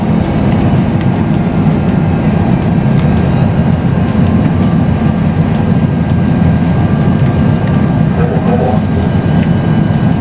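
Airplane engine thrust in a flight simulator game, a loud steady broadband roar that holds constant throughout with no breaks.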